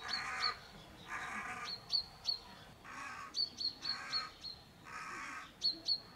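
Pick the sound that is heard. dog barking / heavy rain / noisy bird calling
noisy bird calling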